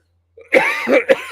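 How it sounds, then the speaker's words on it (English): A single short cough, close and fairly loud, breaking into a couple of rough bursts in quick succession. "Excuse my cough."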